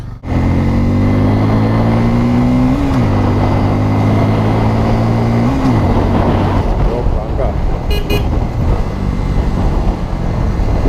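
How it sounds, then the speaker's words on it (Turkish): A Bajaj Pulsar N250 motorcycle climbs a hill in third gear, its engine droning loud and steady. The pitch rises and then drops twice as the throttle opens and eases, under heavy wind noise. "Bence şu yokuşta 3. viteste gaz açsam çok rahat gider"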